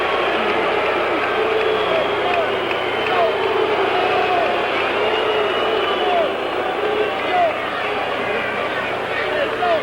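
A boxing crowd roars in a steady, continuous wash of cheering and crowd noise throughout, with a commentator's voice talking over it.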